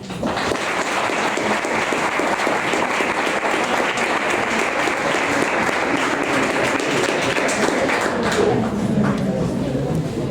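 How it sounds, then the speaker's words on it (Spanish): A lecture-hall audience at a history conference gives the speaker a loud, steady round of applause that continues densely for ten seconds before thinning slightly at the end. "les pido un fuerte aplauso para él"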